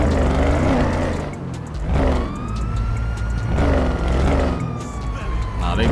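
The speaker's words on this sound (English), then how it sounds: "Keep on hearing them sirens." Police sirens in the GTA 5 video game, rising and falling wails repeating every couple of seconds over a low engine rumble, with a voice talking over them.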